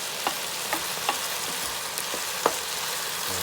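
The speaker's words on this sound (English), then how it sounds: "I'm just going to stir this up for a minute like this, and so it can get tender brown all over." Chicken pieces for curry chicken with vegetables sizzle steadily in a pan, with several soft scraping clicks of stirring spaced through the frying.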